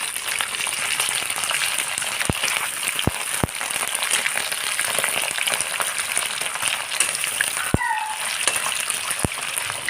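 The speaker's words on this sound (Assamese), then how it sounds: "মিঠাতেলখিনি গৰম হোৱাত মই মাছকেইডোখৰ দি দিছোঁ।" Fish pieces frying in hot mustard oil in a wok for a fish and raw banana curry: a steady, dense sizzle with sharp spits and pops scattered throughout, close and continuous.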